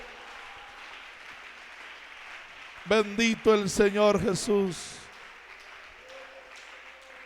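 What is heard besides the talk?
church congregation clapping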